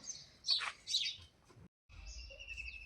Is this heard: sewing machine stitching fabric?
no